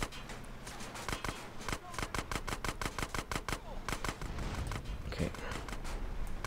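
Rapid bursts of gunfire aimed at bikers in the GTA San Andreas video game, sharp repeated shots in quick volleys over engine and road noise, fairly quiet, with a voice talking over them.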